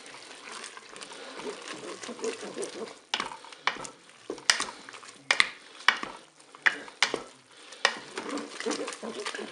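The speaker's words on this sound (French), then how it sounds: "Je vais pouvoir ajouter ma petite préparation de concentré de tomate et de moutarde. Je mélange." Spaghetti with mushrooms is stirred in a Cookeo pot after tomato paste and mustard go in: a close, wet simmering sizzle broken by repeated sharp spoon scrapes and knocks against the pot.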